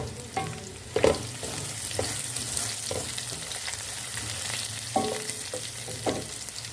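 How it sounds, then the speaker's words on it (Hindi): Crushed green chilies fry in a pan for dhaba-style aloo gobi, giving a continuous close sizzle with periodic spatula scrapes and clinks against the metal. "हरी मिर्ची हमने साथ में कूट ली थी, वो डाल लेंगे और इसको भी हम फ्राई कर लेंगे"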